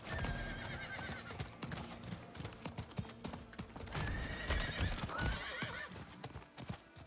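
Hooves clip-clop steadily while a horse neighs and whinnies loudly in a fantasy video game, riding through a glen, the galloping beats dense and continuous with game effects layered over them.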